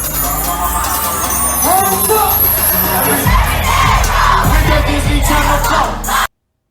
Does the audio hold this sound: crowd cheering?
yes